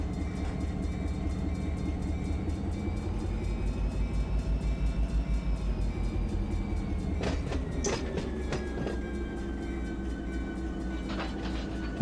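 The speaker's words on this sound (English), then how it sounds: "Kill that bell, we don't need it anymore." A train in a railroad simulator game rolls steadily along the Norfolk Southern AGS route with a constant low rumble and rhythmic wheel clatter, and a few sharp metallic clanks and squeals near the end.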